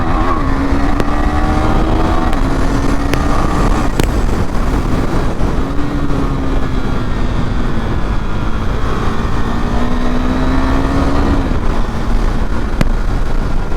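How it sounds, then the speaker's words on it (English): Riding a KTM Duke 390 under hard acceleration with a quick shifter, the engine note climbs in pitch in several steps with brief dips at each shift, loud and close beneath heavy wind rush, with no talk. "When I accelerate that hard, the quick shifter is buttery smooth."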